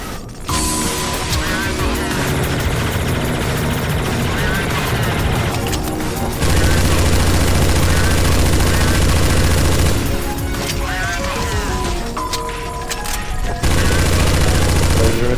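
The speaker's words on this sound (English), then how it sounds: "I'm shooting the boss already." Dense gunfire against a boss in Counter-Strike: Source Zombie Escape, loud continuous volleys layered with music and game effects, with voices talking over it.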